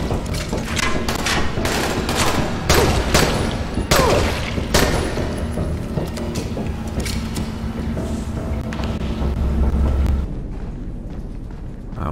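Heavy gunfire from a police rifle in the zombie game Dying Light, a loud, dense barrage of shots and booming impacts that runs nearly continuously before tapering off near the end.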